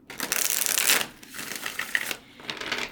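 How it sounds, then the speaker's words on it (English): Tarot cards riffle and flutter in quick rustling bursts, close up, with short pauses between shuffles and no talking. "I started shuffling with the titles kind of facing on top"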